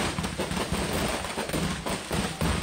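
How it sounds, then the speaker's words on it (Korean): Masses of fireworks go off at once at ground level in a residential street in Toledo, Ohio, making a dense, continuous barrage of rapid cracks and bangs that stays loud and unbroken throughout. "갑자기 지상에서 굉음과 함께 엄청난 양의 폭죽이 한꺼번에 터지기 시작합니다."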